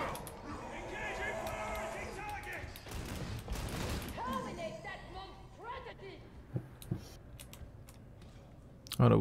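Enemy gunners firing in the co-op game Warhammer 40000 Darktide, a rattling burst of gunfire that swells in the first few seconds, then scattered impacts and sharp clicks under players talking.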